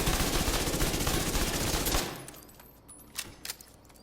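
Rapid automatic gunfire in The Division 2 shooter game, a sustained loud burst for about two seconds that cuts off abruptly, followed by a couple of faint isolated shots.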